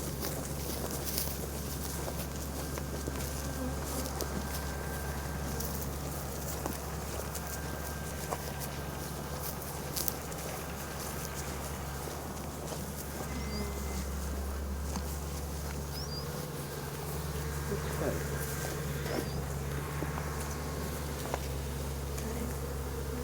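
A swarm of honeybees hums steadily and densely throughout a bee rescue, a close continuous drone with faint outdoor rustles and occasional clicks.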